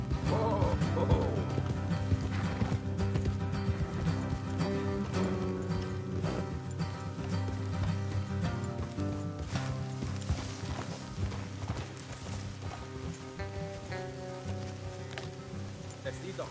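Horse hooves clip-clop at a steady trot in Red Dead Redemption 2, laid under a dense bed of game music with voices talking over them.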